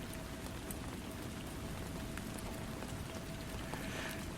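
Steady gentle rain patters evenly on a surface, a dense, soft hiss of droplets at constant low volume throughout with no voices.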